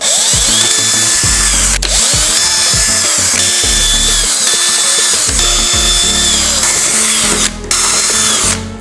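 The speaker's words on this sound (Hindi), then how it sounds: "ड्रिल मशीन की सहायता से इन निशान पे होल भी कर देते हैं कुछ इस प्रकार से।" A handheld drill machine bores holes into PVC pipe, its motor whining loudly in repeated bursts that start, bog down and stop, close to the listener with no talking.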